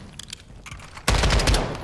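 Automatic gunfire in the Warzone video game, a few distant shots followed by a loud, sustained burst of rapid fire that starts abruptly and continues to the end.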